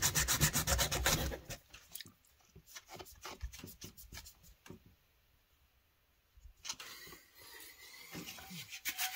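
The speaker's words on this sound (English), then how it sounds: "Back to sanding again, getting it as clean as I could." Rapid rhythmic sanding strokes rasp against wood, loud at first, then fading into softer scattered rubbing, a quiet pause, and renewed scraping.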